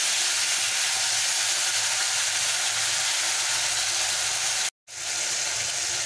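Two grated tomatoes sizzle loudly and steadily in a pan of tempered spices for a vegetarian jackfruit curry, with a brief cut to silence near the end.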